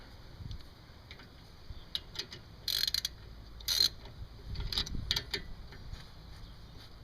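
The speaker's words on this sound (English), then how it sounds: "Reverse this ratchet." Ratchet wrench tightening a nut on Toyota Yaris front brakes, faint scattered clicks in short bursts over a low steady hum.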